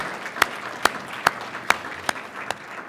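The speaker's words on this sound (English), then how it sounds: "please give yourselves a round of applause" Six sparse, evenly spaced handclaps ring out at a community event, crisp and fairly close, over low room noise rather than a full crowd's applause.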